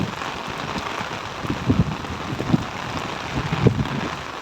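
Rain falls steadily outside a village government health centre, a constant wash with a few sharper drops landing nearby.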